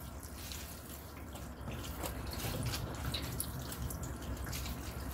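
Water trickles and drips from seaweed stems being stripped by hand in a kitchen, faint, uneven splashes and dribbles that grow slightly louder midway, with no talking.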